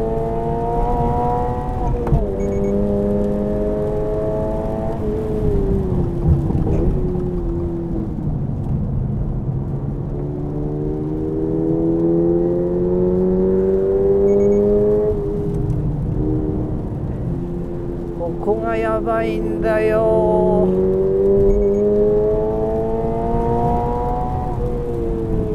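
A Toyota AE86 Hachiroku fitted with TRD parts drives along, its engine note rising and falling through repeated gear changes, heard steadily from inside the car.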